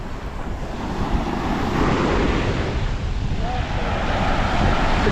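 Surf rolling onto a long beach on the Almeria coast, a steady, loud wash of breaking waves with wind buffeting the microphone throughout and no clear pauses.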